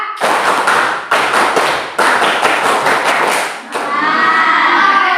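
A scout group claps in a rhythmic pattern, bursts of loud clapping in short sequences with brief pauses, ending in a rising chorus of voices.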